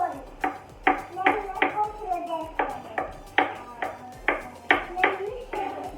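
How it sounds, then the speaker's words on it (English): Washed mushrooms are cut into large chunks with a knife, about a dozen distinct knocks on a board in an uneven rhythm, close and fairly clear. "now I've washed my mushrooms really well, and I'm going to just be chopping them up"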